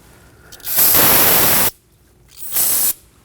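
Brake parts cleaner sprays from an aerosol can onto the brake caliper area of a 2016-2020 Kia Sorento. There is a long hissing burst, a short pause, and then a second shorter burst, both close and loud.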